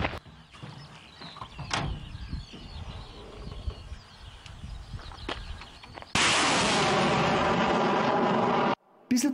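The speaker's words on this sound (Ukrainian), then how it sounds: "Реактивники досить незвично стріляють короткими порціями по одній-двома ракетами за раз." A sudden loud, roaring blast of a multiple rocket launcher firing one or two rockets erupts after a stretch of rustling outdoor noise, holding steady for a few seconds before cutting off.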